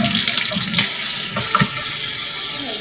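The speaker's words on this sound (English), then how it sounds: "So let's fill up our sink with warm water." Warm water runs from a tap into a sink, filling it with a steady, close, full gush of flowing and splashing water that continues without a break.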